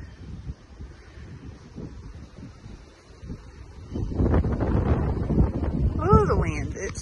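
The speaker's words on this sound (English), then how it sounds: "Oh, the wind, it's whipping." Strong, gusty tornado wind buffets the microphone on a farm, rumbling low and swelling louder midway, while a person speaks over it and calls out.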